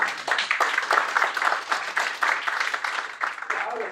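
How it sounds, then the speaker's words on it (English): A conference audience at an augmented reality app show gives dense, continuous clapping that stays fairly loud and even throughout. No voices are heard. "Can I get a round of applause, please, for DocuSign?"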